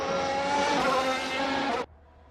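Formula 1 race car engines from a sim racing game at Silverstone, a loud sustained high-revving whine that cuts off abruptly near the end, leaving near silence.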